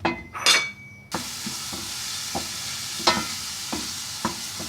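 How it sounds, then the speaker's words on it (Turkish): Finely chopped dry onions sauté in oil in a pot for a Turkish green bean and potato stew, a steady close sizzle with occasional clicks and taps of a stirring spoon against the pot. "Evet, soğanımın kavrulmasını bekliyorum."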